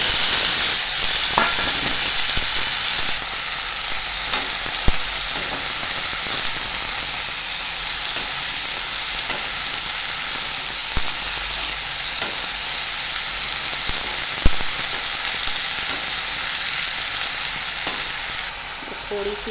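Chopped green cowpeas and eggplant fry in a pan for a Hindi-style mixed vegetable dish, giving a loud, continuous oily sizzle and hiss with a few faint clicks of stirring.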